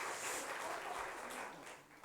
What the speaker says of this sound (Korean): 수고하시는데 박수 한번 쳐드리죠.